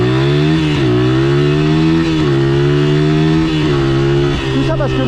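A BMW engine revs loudly and close in Paris traffic, its drone rising and dipping in repeated surges across the whole stretch with no pause.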